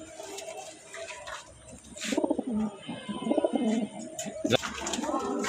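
A Budapest racing pigeon coos in soft, repeated bursts with short pauses, close by, with light rustling and a few sharper chirps mixed in.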